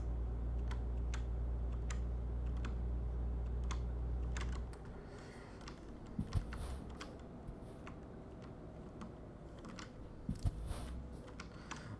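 A computer keyboard is typed on in short, scattered clicks and taps, fairly faint, over a low continuous hum that drops away partway through.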